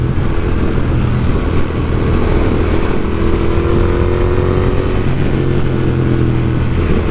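A new Triumph Speed Twin motorcycle with a Vance & Hines exhaust rumbles steadily and loudly throughout, with a deep, throaty exhaust note while riding at a constant pace, no voices.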